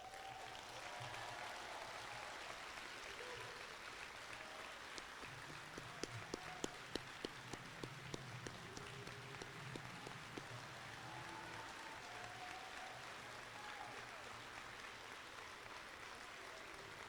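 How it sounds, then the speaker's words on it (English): An audience at a college athletics awards ceremony applauds a coach with a steady wash of many hands clapping, heard from a distance and continuing throughout. "let's give him a quick round of applause"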